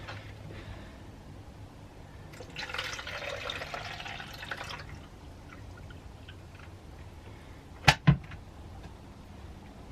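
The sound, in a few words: filling Arctic Air cooler with tap water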